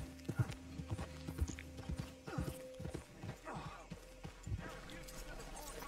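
Hoofbeats of a horse running in a Wild West video game, a steady clip-clop rhythm close and clear, with someone talking over it and a brief whinny.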